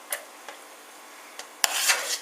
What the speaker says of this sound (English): we're going to scoop it in this bowl over here